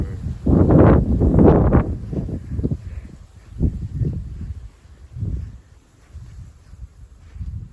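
Gusty south-east wind at night, strong bursts buffeting the microphone in the first two seconds, then weaker irregular gusts rising and falling, with low rumble and faint rustle between.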